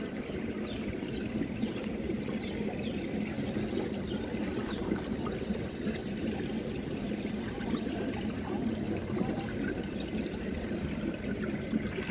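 Water splashing and trickling in a public town fountain in Greifswald, a steady moderate wash of flowing water with crowd ambience behind it and no clear speech.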